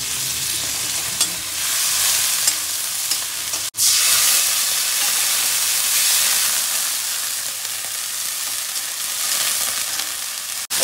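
Onion paste with ginger, garlic and spices is stir-fried in a pan, giving a loud, dense, continuous sizzle and hiss. A brief break comes partway through, and no one speaks.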